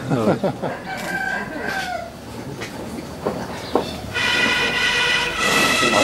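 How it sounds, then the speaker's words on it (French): Roosters crow several times in Peru, one close and others farther off, over a rumbling background that turns into a loud, steady mechanical din near the end. "écoutez bien, vous allez entendre chanter les coqs"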